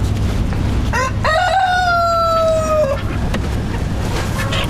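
A rooster lets out one loud, drawn-out cock-a-doodle-doo lasting about two seconds. It rises over a steady background of hens clucking and farmyard noise.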